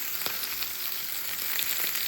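A frying pan sizzles steadily on an invisible induction cooktop, a close, continuous hiss with faint pops and crackles scattered through it and no voices.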